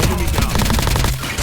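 Rapid automatic gunfire from a DL weapon in Call of Duty Mobile during a scrim match, dense overlapping shots in a quick burst, loud and continuous, with game noise mixed in.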